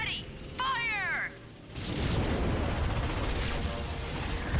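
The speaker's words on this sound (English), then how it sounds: "Cannon's ready! Fire!" Ion cannon firing in the Ratchet & Clank video game: after game voices and a chirping effect, a loud sustained blast of crackling, rumbling energy fire erupts and rolls on under continuing game sound.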